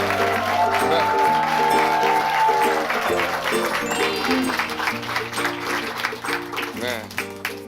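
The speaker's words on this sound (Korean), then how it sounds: "박수로 환영해 주세요" A studio audience claps to welcome comedian Oh Ji Heon onto a Korean talk show set, steady applause running throughout with music playing underneath.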